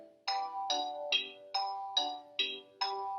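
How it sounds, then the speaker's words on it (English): A mobile phone ringtone plays seven evenly spaced chiming notes, each with a bright bell-like attack. The notes sound close and moderately loud in an otherwise quiet room. "My phone's ringing."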